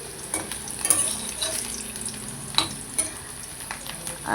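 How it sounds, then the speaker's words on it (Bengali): Bitter gourd fries in oil in a wok, a steady sizzle broken by a few sharper crackles and stirring scrapes, close and clear with no talking. "আর এদিকে কড়াতে তেল দিয়ে উচ্ছেগুলো ভালো করে ভেজে নেব।"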